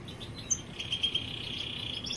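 Goldfinches in an aviary give a few short, high, thin chirps over a faint, steady background hiss, quiet and a little distant.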